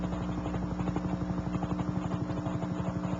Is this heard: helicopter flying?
yes